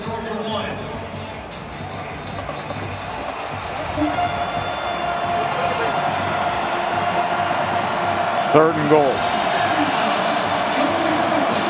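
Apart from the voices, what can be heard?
stadium crowd roaring at football game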